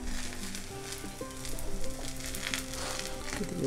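Sweet semolina-filled flatbread frying in ghee on a hot griddle over a lowered gas flame, a dense, continuous close sizzle with faint crackles throughout.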